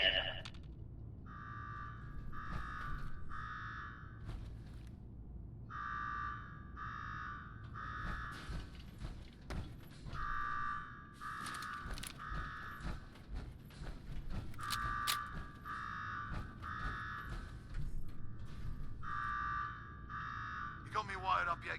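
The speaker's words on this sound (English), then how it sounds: "Now go shut off that damn alarm." An alarm in the video game Fallout 4 blares in repeated evenly spaced buzzing pulses over low background rumble and footsteps.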